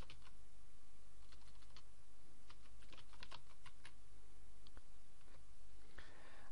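Keys clatter on a computer keyboard as a folder name is typed, quick irregular clicks in short bursts, fairly faint against a steady low hum.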